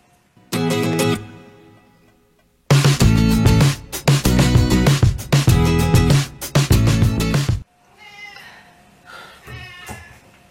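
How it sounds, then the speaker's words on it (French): A house cat meows loudly and insistently in a string of repeated cries, with one short call followed by a long run of closely spaced meows, then quieter sounds nearby. "Mais oui, je sais que tu miaules, mais tu miaules pourquoi?"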